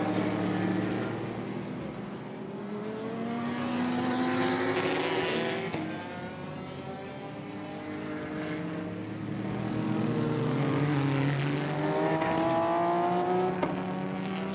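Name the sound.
race cars in 24H Series endurance race, Renault Clio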